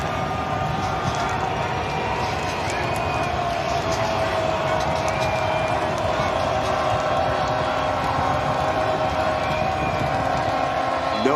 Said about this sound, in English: This sellout crowd, an opportunity to make some noise.